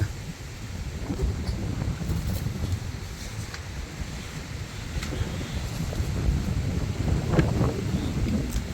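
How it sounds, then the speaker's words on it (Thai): Strong wind from a storm roars over the microphone in a continuous, loud, low buffeting rush with no pauses and no voices. "พังเสียงลม"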